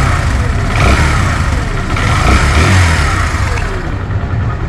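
A 2024 Kawasaki Barako 2 motorcycle engine revving up close and loud, its steady idle rumble swelling through two throttle blips before settling back.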